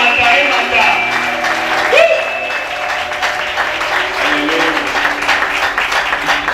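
A church congregation applauds during a Sunday worship service, sustained clapping mixed with cheering voices and a steady tone of music or organ beneath.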